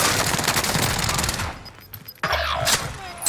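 Rapid automatic gunfire and explosions in the video game Warzone on Rebirth Island, dense bursts of shots filling the first half, then sharper isolated cracks and a heavy thump after a brief drop.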